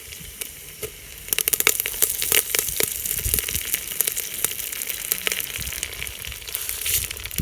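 Hot oil crackles and sizzles loudly as curry leaves hit the pan with onions, with dense popping and spitting that continues steadily up close.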